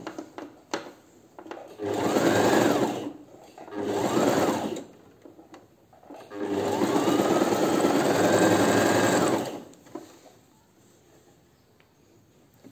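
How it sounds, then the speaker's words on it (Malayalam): A sewing machine stitches a kameez sleeve in three runs, two short bursts then a longer steady whir, loud and close with quiet pauses between and no talk. "ഇതുപോലെ നീക്കി നീക്കി സ്റ്റിച്ച് ചെയ്ത് കൊടുക്കുക"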